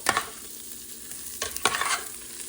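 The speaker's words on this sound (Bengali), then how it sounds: "এটাকে ভালো করে এটা জাস্ট একটুখানি স্টার ফ্রাই টাইপের করবো" Lentils, rice and vegetables are stir-fried in oil in a pan, with a soft, constant sizzle broken by a few sharp scraping strokes of the spoon, close by and with no talk.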